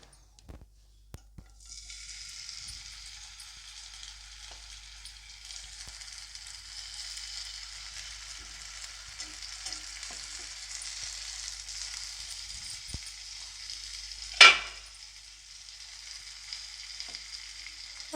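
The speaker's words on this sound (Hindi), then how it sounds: "ये मेरा गर्म हो चुका पैन, मैं इसमें एक एक करके रख दूँगी" Paneer tikka pieces sizzle on a hot, oiled pan: a continuous, even frying hiss rises after a quiet start and holds steady, with one sharp, louder crackle near the end.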